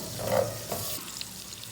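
Chopped onion fries in ghee for a turnip bhujia, a short close burst of soft sizzling and stirring with a brief louder crackle near the start.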